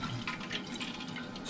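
Water sprays into a toilet tank as it refills after a slow-fill repair, a steady, close rushing and splashing hiss running without a break.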